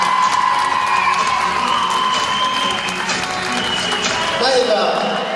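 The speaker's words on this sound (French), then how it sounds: "Merci de l'applaudir très fort" An audience at a beauty pageant election evening applauds and cheers a candidate, with dense, steady clapping and scattered whoops filling the whole stretch while a presenter talks over it.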